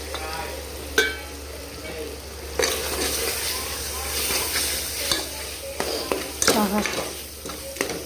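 Dhaba-style chicken masala frying with yogurt and dry spices until the oil separates, a continuous sizzle with spatula scrapes and occasional clatters of the pan, and a low steady hum running beneath.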